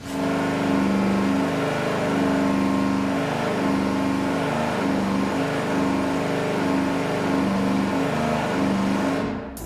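A car engine on a dyno holds a loud, sustained mid-pitched roar during a power sweep, droning steadily at high revs throughout, then cuts off abruptly at the end.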